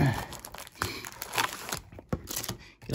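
Crinkly foil wrappers of 2023 Topps Chrome MLS trading card packs rustle and tear in short bursts, with crisp ripping and crumpling sounds close by, punctuated by brief pauses.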